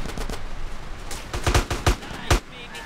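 Video game gunfire in GTA San Andreas during a user-made mission: a burst of sharp shots, several spaced cracks clustered near the middle and one more near the end, with a busy game background.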